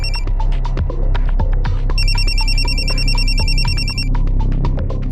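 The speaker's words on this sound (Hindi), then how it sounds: "फोन आ गया तुम्हारा?" A telephone rings with a loud electronic warble, repeating pulsed tones over a busy background of clattering and low hum, close and insistent.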